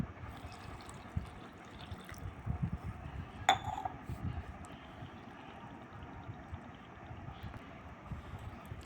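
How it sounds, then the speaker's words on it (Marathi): Water is poured into a vessel holding one cup of semolina to wash it, a soft steady pouring and trickling under a faint background hum, with no talk. "त्याच्यामध्ये पाणी घालायचं."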